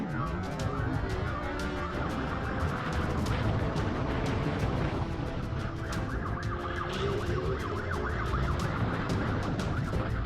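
Police siren during a high-speed motorcycle chase: a steady wailing siren over dense traffic and engine rumble, continuous and moderately loud, with no voices.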